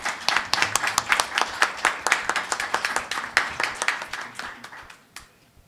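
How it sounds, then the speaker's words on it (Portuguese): A lecture audience claps in a sparse run of distinct handclaps of moderate loudness, fairly close, rhythmic at first and then thinning out and dying away near the end. "que recebemos com palmas entusiasmadas"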